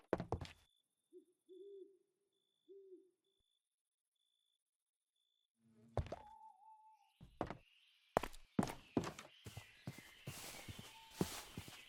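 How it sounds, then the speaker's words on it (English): Owls hooting at night in Minecraft, a few soft low hoots early on against near silence, then a stretch of quiet before footsteps, knocks and clatter build up up close and grow busy. "I can hear the owls twit-twirring"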